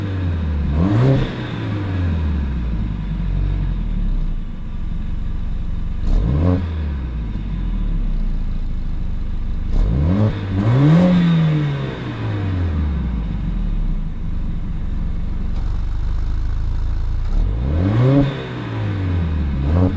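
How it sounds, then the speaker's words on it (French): A 2020 Mercedes A45S AMG with AMG exhausts revving hard in repeated accelerations, each loud engine swell rising and falling back to a steady rumbling idle, recorded close up with no talk. "va maintenant écouter le son dégagé par ces échappements AMG"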